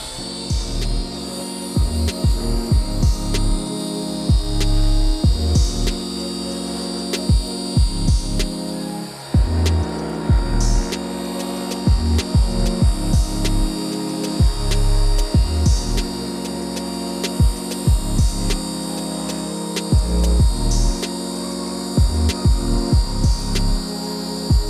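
A paint polishing machine with a pad works over car paint during a one-step correction, giving a loud, steady, close motor drone with a pulsing, throbbing rhythm that runs continuously throughout.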